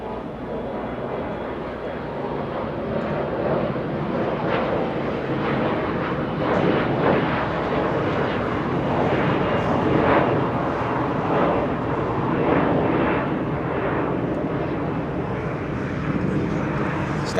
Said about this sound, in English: Skywest 3434 heading to San Jose, California. Little Embraer E175.